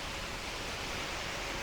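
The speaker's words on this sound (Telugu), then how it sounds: "నీరు చూడండి ఎలా వెళ్తుందో మొక్కలకి." Irrigation water flowing through a village garden of young coconut plants and henna bushes, a steady broadband rush and trickle that holds even and close throughout.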